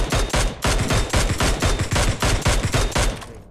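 Rapid bursts of PUBG Mobile gunfire, loud and close, with short automatic volleys repeating steadily throughout.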